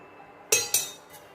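Two quick, bright clinks of a utensil against a plate while Kerala lunch dishes are served, the second right after the first, with a fainter touch following in a quiet room.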